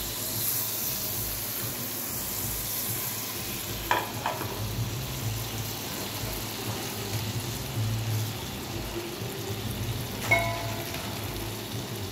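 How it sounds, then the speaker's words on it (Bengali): Mung dal dry roasting in a pan gives a steady dry rustling sizzle with scattered scraping stirs, heard close and continuous against a kitchen backdrop. "একটু ড্রাই রোস্ট করে নিচ্ছি, মুগ ডাল হবে।"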